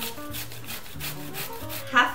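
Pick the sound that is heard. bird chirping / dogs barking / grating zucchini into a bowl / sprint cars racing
grating zucchini into a bowl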